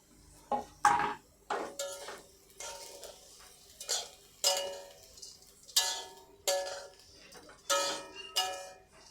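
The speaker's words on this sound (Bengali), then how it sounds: "এভাবে নেড়ে চেড়ে ভেজে নিচ্ছি।" Vermicelli is stirred and fried in a pan over low flame, a utensil scraping and clacking against the metal in regular bursts roughly every second, close and quiet with a faint sizzle beneath.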